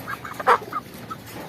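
Chickens and quail in a backyard coop give short, close clucks and chirps, one louder squawk standing out among scattered softer calls.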